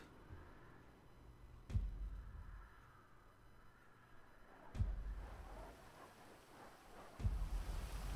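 Steady rain falls in a Grand Theft Auto V game world, a soft continuous hiss with three deep thunder rumbles rolling in at intervals, fairly quiet and with no talking over it.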